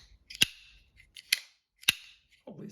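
A Benchmade Griptillian folding knife with a 20CV steel blade snaps open three times in sharp, loud, close clicks, each followed by a brief metallic ring, with a faint rustle afterwards.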